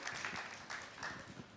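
Studio audience applause on a comedy show stage, a steady broad wash of clapping lasting throughout at moderate loudness.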